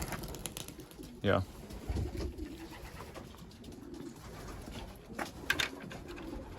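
Pigeons in a loft, young and old birds, coo softly at middle distance amid background rustle, with someone briefly speaking nearby.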